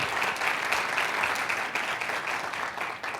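A conference audience applauds a corporate sponsor. The clapping is steady and dense and stays at the same strong level for the whole stretch, with no voices standing out above it.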